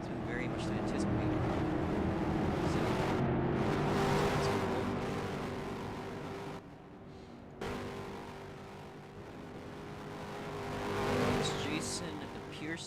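Race cars from the 2023 ROX Mods season finale roar steadily through a chicane, engines loud and continuous with passing swells, one car spinning out, while a commentator talks over the action.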